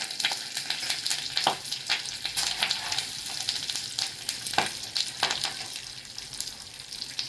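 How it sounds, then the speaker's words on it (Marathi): Mustard seeds, cumin, asafoetida, curry leaves and chilies sizzle in hot oil for a dhokla tempering, a dense close crackle with rapid popping bursts throughout, no voices. "मोहरी पाव चमचा ते चांगले तडतडले की त्याच्यामध्ये हिंग टाकते हिंग"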